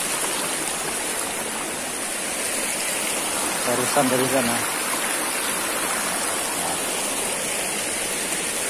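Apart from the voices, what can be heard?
river stream flowing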